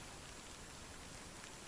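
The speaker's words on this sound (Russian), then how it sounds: "Идет дождь с утра." Steady rain falling in the taiga, a dense even hiss of drops with no voices, constant in level throughout.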